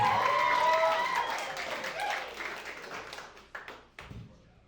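Applause and cheering rise from a comedy club audience at the Liquid Lounge in Ashland, Oregon, loud at first and then thinning into scattered claps, with voices mixed in throughout.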